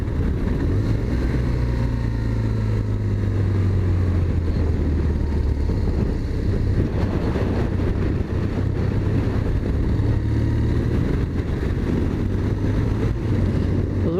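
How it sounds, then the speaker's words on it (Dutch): A BMW R1300GS motorcycle riding and accelerating on an open road, its engine a low, constant drone buried under heavy wind rush throughout. "Een nadeel van deze motor, dat hij gaat zo makkelijk te hard."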